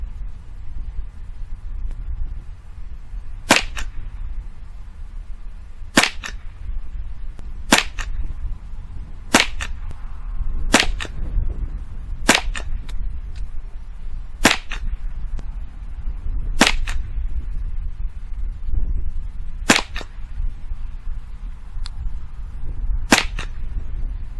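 Ten sharp, evenly spaced cracks from a Mossberg 715T .22 LR rifle firing CCI Standard Velocity rounds at a 50-yard target, each shot distinct and moderately loud over steady outdoor background noise with no talking.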